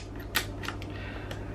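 Yashica Electro 35 rangefinder camera with a faulty shutter firing, a single sharp close mechanical click followed by a couple of fainter ticks over a low hum.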